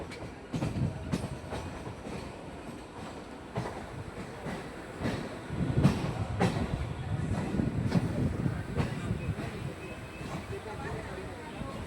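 A Naihati to Majerhat local train runs steadily with a continuous rumbling roar, rhythmic wheel clatter and occasional sharp clicks, heard from inside the carriage while approaching Ballygunge Junction, with faint voices in the background.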